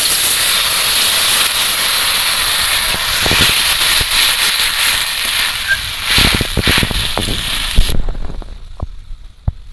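Water poured into a hot pan with mourala fish sends up a loud, sustained hiss of steam that fades off near the end, with a few bubbling pops and clicks as it dies down.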